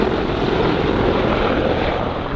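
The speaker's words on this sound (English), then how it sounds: "This helicopter just passed by really low, and you could hear it echoing throughout the whole valley." A helicopter flies low over a valley in the Scottish Highlands, a loud, constant rotor roar that fills the whole stretch and echoes off the surrounding hills, with no voices.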